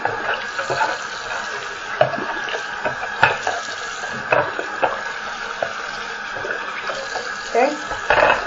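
Running water rinsing a plastic hamster ball under a tap, a steady splashing hiss with irregular sloshes and knocks as the ball is turned, close and continuous.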